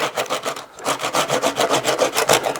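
Rasp filing a knuckle of fatwood pine, a steady run of rough rhythmic scraping strokes, close and fairly loud, with a brief pause near the start and no talk.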